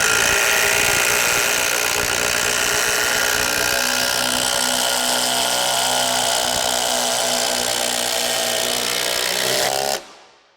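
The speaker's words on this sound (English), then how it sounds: "even though we're just putting screws in some wood" Makita XGT 40V and Milwaukee cordless drivers run loud and continuous side by side, whining steadily as they drive screws into wood for about ten seconds before cutting off abruptly.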